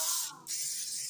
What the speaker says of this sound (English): Nonstick. Go ahead and spray this.